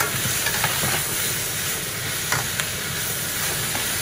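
Onions, thyme and garlic fry in a pot for a home couscous royal, giving a steady, loud broadband sizzle and hiss with a few faint clinks and no talking.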